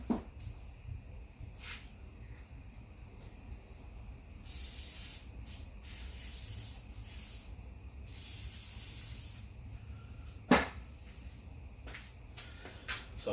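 Several short hissing bursts from an aerosol spray can on a Nissan GQ Patrol, some longer than others, with quiet background noise and a sharp knock between sprays.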